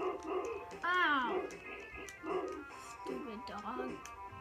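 A cartoon dog from the Beavis and Butthead video game yips and whimpers in several short bursts, mixed with game sounds and voices.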